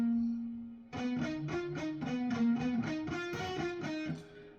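Slow electric guitar solo exercise played with distortion, a held note followed by a steady run of evenly spaced picked notes climbing and falling, fairly loud and alone without talk.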